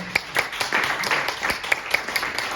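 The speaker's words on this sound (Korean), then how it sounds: "뜨거운 감사 박수 부탁드리겠습니다" Seminar attendees at a North Korean human rights press conference give thank-you applause for session speakers, scattered distinct claps from a modest crowd over a soft background murmur.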